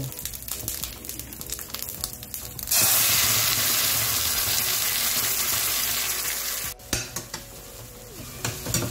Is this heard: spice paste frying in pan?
yes